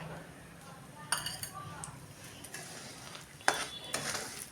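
Semolina sizzles gently in hot melted ghee while a spoon stirs it, with soft scraping and a few sharp clinks of metal against the pan; quiet and close.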